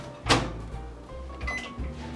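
A microwave oven melting butter hums at close range, with a sharp click or thump near the start and a few smaller knocks over the drone.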